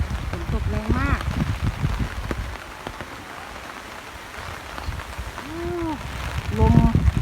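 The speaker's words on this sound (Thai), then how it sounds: "ฝนตกแรงมาก" Heavy storm rain falls on a rural Thai garden with lemongrass, a steady wash of noise beneath someone talking intermittently at the start and near the end.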